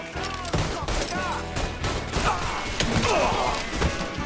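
Gunfire in the Mafia III video game during a firefight, with rapid bursts and heavy thuds crashing over one another, loud and close, while shouting voices carry on beneath.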